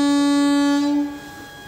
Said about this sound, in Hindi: और ये हमारी ट्रेन भी यहाँ से निकल चुकी है